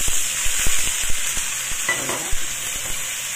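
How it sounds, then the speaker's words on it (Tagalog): Mixed vegetables fry for a beef curry, a steady close sizzle broken by irregular clacks and scrapes of a spatula stirring the pan. "I-fry lang natin."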